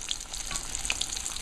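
Large pieces of chicken fry in hot oil, a soft, continuous sizzle with scattered crackling pops, heard alone and fairly quiet.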